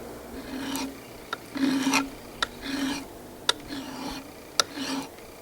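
Hand file rasping along the spine edges of a knife blade, squaring them up outdoors; a steady series of close, scraping strokes, each ending in a sharp tick, about five passes in rhythm.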